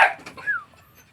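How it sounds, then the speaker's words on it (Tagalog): A dog lets out one loud, sharp bark up close, followed by a brief rising-and-falling whine before the sound drops away to quiet. "Sobrang ingay ng aso namin."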